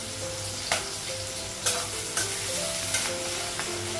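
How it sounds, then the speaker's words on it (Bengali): Onions fry in a hot pan with a steady, close sizzle, and a spatula stirs them in a few sharp scrapes spread across the clip, with no voices. "পেঁয়াজটা ভাজা হয়ে গেছে"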